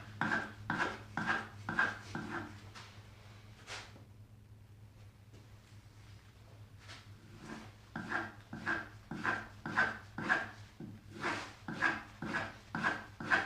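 Woodworking blade bevel being sharpened on sharpening plates, rhythmic scraping strokes of steel rubbing back and forth in steady bursts, with a short pause midway and a low hum underneath.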